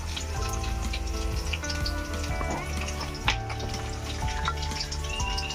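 Hot oil sizzles steadily in a pan on a home stove, a dense, continuous frying hiss with scattered crackles and small pops throughout, fairly close and without talk.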